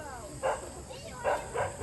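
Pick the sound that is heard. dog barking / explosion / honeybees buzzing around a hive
dog barking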